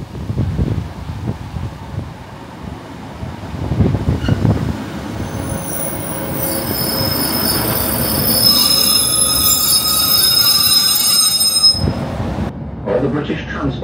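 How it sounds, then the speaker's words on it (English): A passenger train pulling out of Marske station toward Saltburn, with a steady rumble building as the carriages move and a prolonged high wheel squeal rising in the second half, loud and continuous inside the train. "So we're now be leaving Marske station out on our final train as we head to Saltburn,"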